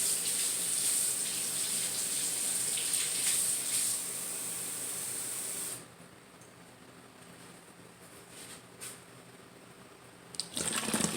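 Hot water pours into a spray bottle in a steady hissing stream for several seconds, then stops, followed by quiet handling noises and a brief rattle.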